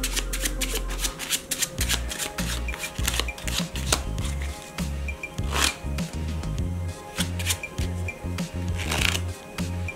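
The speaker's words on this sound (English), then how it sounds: "I'm going to take a deck of cards and shuffle them." Playing cards are shuffled repeatedly, with rapid riffling bursts and soft slaps and rubs in an uneven rhythm, close and clear, with no talking.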